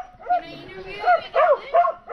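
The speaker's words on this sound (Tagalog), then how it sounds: "Maingay yung aso eh." A dog barks and yips in short bursts close by, several sharp barks in quick succession over a noisy background.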